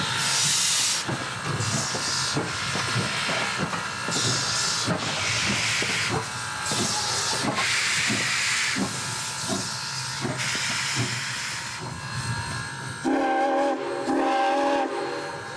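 The 112-year-old SOO Line 1003 steam locomotive makes a run-by through the Wisconsin countryside, loud continuous steam hiss over rhythmic chuffing, and a whistle blast sounds near the end.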